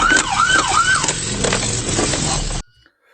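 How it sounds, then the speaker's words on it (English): A police car siren wails in rising and falling sweeps under road noise at fairly close range, loud for over two seconds before cutting off abruptly into near silence. "The siren's active."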